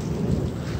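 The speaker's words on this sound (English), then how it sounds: "Started to rain harder." Heavy monsoon rain pours at night with a low rumble of thunder, a dense steady wash close by, lasting the whole short moment.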